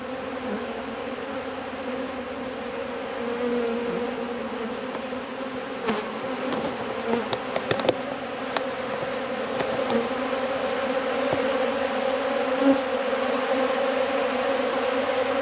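A dense, steady hum of many honey bees buzzing continuously while feeding from a bucket, with occasional louder individual bees passing close by.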